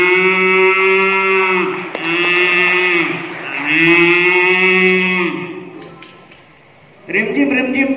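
A person imitates a cow mooing with long, drawn-out lowing calls, three in a row, then a pause before another low call begins at the end.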